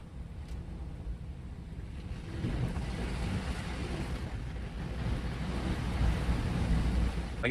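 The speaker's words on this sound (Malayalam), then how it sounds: "നല്ല കാറ്റും ഉണ്ട്" Strong wind during rainy weather buffets the microphone in a steady, low roar that swells louder partway through, with a wash like surf underneath.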